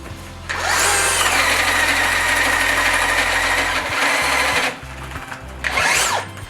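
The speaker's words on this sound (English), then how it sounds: "we'll go ahead and drill this" A power drill bores into a log for railing, a loud steady grinding whine with engine-like low drone for several seconds, easing, then a couple of short renewed bursts.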